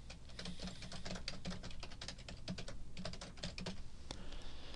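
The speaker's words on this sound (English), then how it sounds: "So in this case, I've typed some example text here." Rapid, steady keystrokes on a computer keyboard as example text is typed, close and clear, with a dense run of clicks and brief pauses and no talking.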